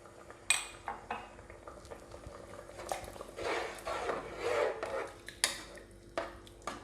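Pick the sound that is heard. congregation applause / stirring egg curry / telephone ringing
stirring egg curry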